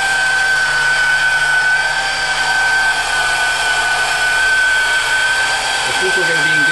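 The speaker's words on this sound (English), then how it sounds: "I'm actually twisting the base of the polisher a little bit to give me a little bit of a bite." A handheld polisher runs steadily on window glass during hard-water stain removal, a continuous loud whirring drone with a high whine held throughout, its pitch wavering slightly as the base is twisted.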